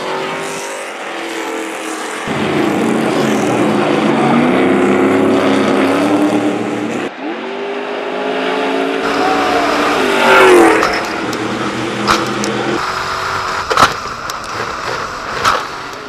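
A Stadium Super Truck racing on the Long Beach street circuit, its engine roaring loud and close, revving and shifting through gears, with sharp changes in pitch and a few clanks near the end.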